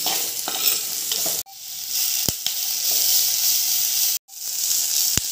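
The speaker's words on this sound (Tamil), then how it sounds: "வெங்காயமும் பூண்டும் பொன்னிற ஆற வரைக்கும் நல்லா வணக்கி விட்டுக்கலாங்க." Onions and garlic sauté in a pan until golden, giving a steady loud sizzle and hiss, with stirring scrapes and two brief breaks where the sizzling stops.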